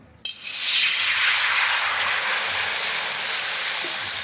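Magur fish coated in salt and turmeric hits hot oil in a pan with a sudden burst of loud, steady sizzling that holds on without pause.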